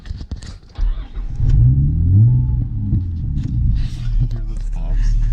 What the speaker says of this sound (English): Hear those pops?